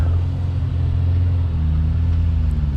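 Off-road vehicle driving at Sand Hollow, Utah produces a loud, steady low engine rumble with a droning hum, close and continuous throughout, no talking.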